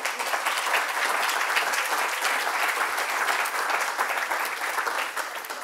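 A symposium audience applauds the fourth and fifth graduating cohorts with dense, steady clapping that holds at an even loudness for about five seconds and fades slightly at the end, with no voices.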